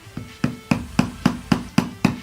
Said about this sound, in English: I'm gonna be using a hammer.